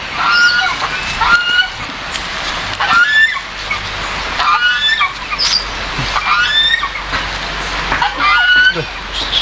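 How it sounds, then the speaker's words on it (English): Geese honking repeatedly at a farm-like spot near Guatapé and San Rafael, Colombia, with harsh calls coming in bursts over outdoor background noise and occasional voices. "Ganso."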